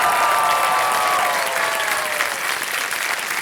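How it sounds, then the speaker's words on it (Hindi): Studio audience applauding a contestant on the Kaun Banega Crorepati quiz show, a dense, loud wash of clapping that carries unbroken from start to finish. "तालियां बजती रहे हमारे"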